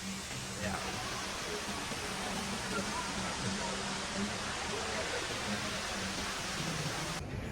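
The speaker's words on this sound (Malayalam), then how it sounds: "ഇതാണ് ദുബായ് മോളിലെ ഫേമസ് വെള്ളച്ചാട്ടം" The famous indoor waterfall at Dubai Mall pours in a constant dense roar, even and unbroken, with faint crowd voices blended beneath the cascade.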